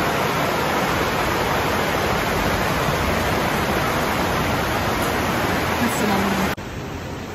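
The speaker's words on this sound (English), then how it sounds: "It has not stopped pouring. It just seems to be getting stronger and stronger." Heavy rain pours down steadily outdoors in Vietri sul Mare, a dense continuous roar that holds at full strength for several seconds before dropping abruptly to a softer wash near the end.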